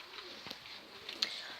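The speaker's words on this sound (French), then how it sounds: "La tourterelle est sortie" A pet turtle dove cooing softly, with a couple of brief low calls over a quiet room background, fairly faint and unaccompanied by speech.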